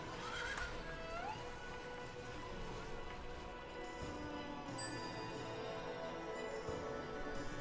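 A horse neighs in the strategy video game Ara: History Untold, a brief whinny early on over a continuous layered game soundtrack and ambience.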